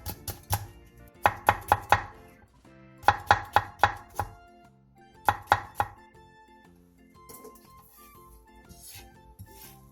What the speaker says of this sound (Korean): 대파 조금을 길게 반으로 갈라 쫑쫑 썰고 청양고추 한두 개는 길게 십자 모양으로 칼집을 낸 뒤 쫑쫑 썰어주세요